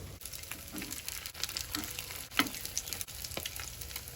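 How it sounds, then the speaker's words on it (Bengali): Egg and Maggi noodles fry in oil in a frying pan, a steady close sizzle with scattered crackles and a few louder spatters, no voices. "ম্যাগি তেল দিয়ে ফ্রাই প্যানে দিয়ে দেবো"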